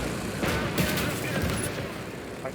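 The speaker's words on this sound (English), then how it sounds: "Mortars out the arse." Mortar fire in Call to Arms: Gates of Hell, a rumbling barrage of several dull blasts overlapping in a continuous battlefield din, heavy and somewhat distant, with no clear talk on top.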